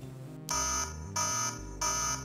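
Three loud, shrill smart home electronic siren blasts sound in a steady on-off pattern, each lasting about half a second with brief gaps between.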